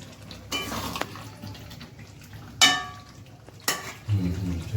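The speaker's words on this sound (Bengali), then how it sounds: "এই যে দেখতে পাচ্ছ মাটন প্রায় হয়ে এসছে, এখন মা কষাচ্ছে।" Mutton curry being stirred and sautéed in a pot gives a few scraping spoon strokes against the metal, with soft sizzling between them, heard close and fairly quiet.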